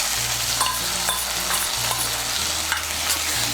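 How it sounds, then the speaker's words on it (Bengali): Spoonfuls of whisked sour yogurt being stirred into a spice masala as it fries in a pan for a vegetarian young jackfruit dish, giving a steady sizzle with scraping stir strokes throughout. "টক দইটাকে ভালো করে মিশিয়ে নেব।"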